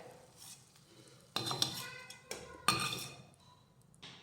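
A spoon scrapes roasted cashews out of a pan onto a plate, giving a few distinct metallic scrapes and clinks in quick clusters, close and fairly soft in a quiet kitchen.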